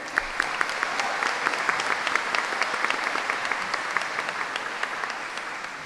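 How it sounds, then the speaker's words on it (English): An audience claps steadily and warmly for a school choir at an academic awards ceremony, a dense patter of many hands at an even pace throughout, with no voices standing out. "One more round of applause, please, for our beautiful choir."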